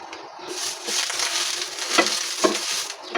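A hot dosa pan is wiped with a wet cloth, giving a continuous hiss and sizzle with scraping swipes and a few sharper crackles, close and moderately loud, with no talking.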